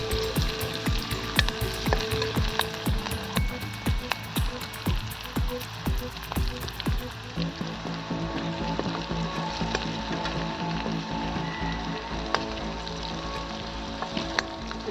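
Garlic and vegetables frying in a pan for village-style spicy noodles, a continuous close sizzle broken by stirring clatters, the tone softening midway as more ingredients settle in the oil.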